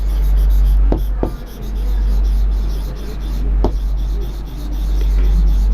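Pen scratching across paper while writing a paragraph in capital letters, steady close rubbing strokes with a few sharp taps, plus a low hum underneath.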